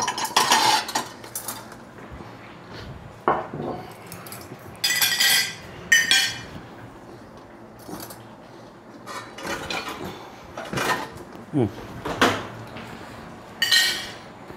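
Plates and cutlery clink and chink as a dinner table is set, a series of light metallic and ceramic knocks in irregular bursts, close by and fairly quiet, with no talking.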